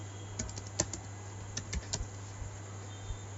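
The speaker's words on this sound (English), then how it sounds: "Now if I type here anything, you cannot see what I'm writing" Keys tapped on a computer keyboard, a sparse, irregular string of light clicks at close range over a low steady hum, with no voices.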